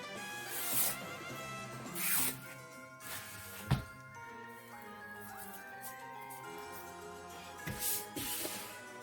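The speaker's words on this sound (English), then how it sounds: "I'm going to make a little knit right there at the 12-inch and tear it" Organza fabric is torn by hand in several short, quiet ripping bursts, each a brief rasp spread over a few seconds with pauses between them.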